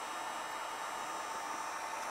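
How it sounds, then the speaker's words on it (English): Steady, even broadband whoosh of a heat gun powered through a 12-volt off-grid inverter, running continuously and fairly loud with no breaks or voices. "So that's on, the heat gun's on."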